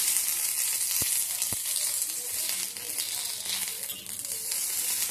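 Green chillies frying in a tablespoon of oil in a pan, a dense, bright, continuous sizzle up close with two sharp knocks early on and faint crackling throughout.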